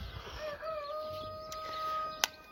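Brahma hens and a blue porcelain rooster cluck softly at a distance in a farmyard pen, with faint drawn-out calls and a sharp click near the end under low background noise.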